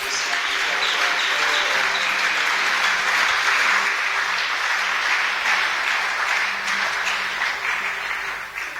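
A church congregation applauds and cheers at a worship service, sustained dense clapping that stays loud and steady throughout, with faint voices mixed into the crowd noise.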